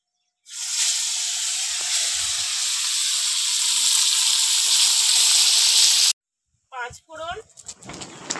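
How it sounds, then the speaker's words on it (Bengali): Leta fish pieces dropped one by one into hot oil, a loud, close, steady sizzle lasting several seconds that stops abruptly, followed by a voice speaking. "এবার একটা একটা মাছ ভেজে নেবো।"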